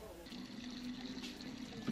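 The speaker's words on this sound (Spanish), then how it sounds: "ves el agua corriendo porque es agua limpia" Clean water running and splashing from leaking street pipes in Havana, a steady continuous flow heard close by with faint background noise.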